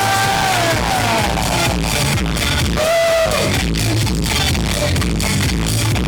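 A wedding reception crowd yells and whoops for a newly married couple, a dense, steady roar of voices with rising shouts filling the whole stretch.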